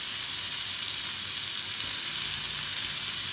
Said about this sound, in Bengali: বেশ ভালো করে ভেজে নেব।